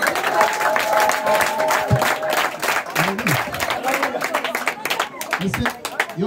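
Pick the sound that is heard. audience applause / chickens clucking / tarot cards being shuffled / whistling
audience applause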